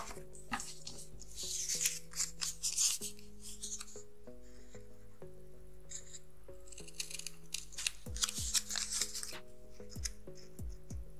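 Paper card stock being cut with scissors for a pop-up greeting card, a series of close, crisp snips and rustles over a steady faint background hum.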